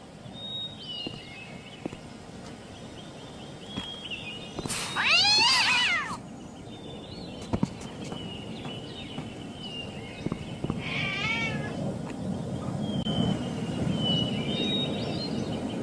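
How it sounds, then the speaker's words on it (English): A cat in the video game Gabriel Knight 3 lets out a loud, wavering meow midway, with a second shorter yowl later, over a quiet ambient game background. "The cat ran through there."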